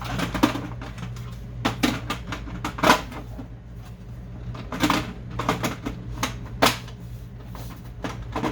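An HP D7260 inkjet printer works through a page with a string of sharp mechanical clicks and short whirring bursts at uneven intervals, close and alone.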